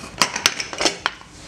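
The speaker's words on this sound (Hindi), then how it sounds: "तो अब कुकर का प्रेशर पूरी तरह से निकल चुका है, हम कुकर को खोल लेंगे।" Metal clinks and clatters of a pressure cooker lid being opened after the pressure has fully released, a few sharp knocks in quick succession at close range, with no talking.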